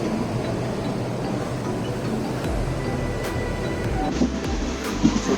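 Train rumbling at a railway platform, a steady close mechanical roar and rattle with occasional metallic clanks and squeaks, no voices.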